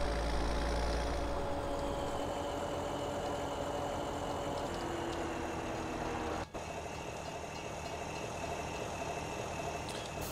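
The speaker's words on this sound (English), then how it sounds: "we're just waiting for this mower to get caught up to me" A mower's engine in a farming simulation game drones steadily at a moderate level for the whole stretch, with a constant mid-pitched hum and a brief dropout partway through.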